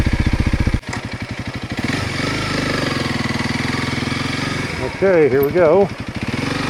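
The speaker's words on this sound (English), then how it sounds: "we're going to go ahead and get to riding so we can see what's the MotoVlog video on the DUALSPORT" A Honda CRF300L dual sport motorcycle idles with a steady single-cylinder putter, then pulls away as the engine revs rise and fall through gears, close to the rider, with a brief spoken line at the start.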